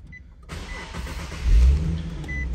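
A 2015 Nissan 370Z roadster with a 3.7L V6 cranks and fires up close by, the engine catching with a loud surge midway and then settling into a steady idle rumble, with no talking.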